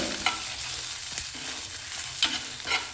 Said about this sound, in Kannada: ಈ ಬೆಳ್ಳುಳ್ಳಿ, ಬೇಳೆಗಳು, ಜೀರಿಗೆ, ಮೆಣಸಿನ್ಕಾಯಿ ಎಲ್ಲನೂ ಚೆನ್ನಾಗಿ ಸ್ವಲ್ಪ ಹುರ್ಕೊಳ್ಳೋಣ